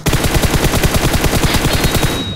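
Rapid automatic gunfire from a shooter video game, a loud, steady burst of evenly spaced shots running for the whole moment with no pauses.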